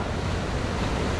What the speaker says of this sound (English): there's a couple of waves starting to come through